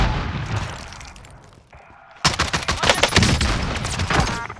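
Gunfire in Call of Duty: Modern Warfare 2019 Warzone gameplay. After a quieter stretch, loud, dense automatic bursts and sharp shots break out and keep coming close up for the rest of the clip.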